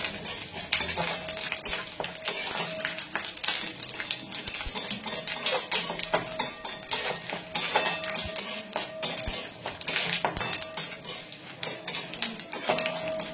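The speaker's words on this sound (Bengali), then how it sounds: "তো এই সব কটা তেলে একটু ফ্রাই করে নেব" Whole spices, cinnamon, cloves, curry leaves, cumin and black mustard seeds frying in oil for sambar, with crackling, spoon scraping against the pan and clinking metal cookware throughout, fairly close.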